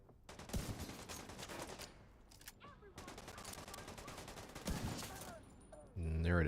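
Quiet bursts of video-game gunfire during sniper headshot play: clustered sharp shots crackle in quick runs with a short gap in the middle, followed by a brief tonal game sound at the end.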